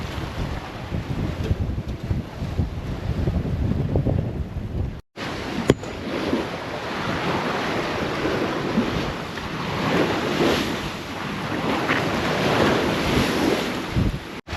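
Strong wind buffets the microphone over the steady roar and wash of rough sea waves on an open-ocean sailing passage from Tahiti to Hawaii, with a brief dropout partway through.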